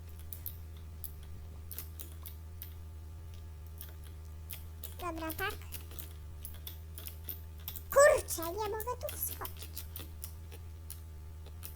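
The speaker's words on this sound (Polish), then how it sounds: "Sorry was za odgłosy mojej klawiatury, ale mechaniczna, no to trochę głośna." Rapid clicking of a mechanical keyboard runs throughout under a steady low hum, with someone speaking briefly in Polish in the middle during a Minecraft game.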